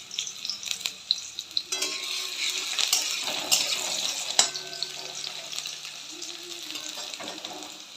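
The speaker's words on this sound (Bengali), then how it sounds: "আমি এই সময়তে পেঁয়াজটাকে আগে একটু ভেজে নিচ্ছি।" Onions frying in white cooking oil in a pan, giving a steady soft sizzle with scattered crackles and occasional stirring clatter, fairly close and moderately loud, with no talking.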